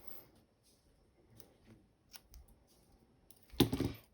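Scissors snip a tiny 3D foam pad in half for scrapbooking card layering, giving one sharp, close cut that stands out after a stretch of quiet, faint handling noises.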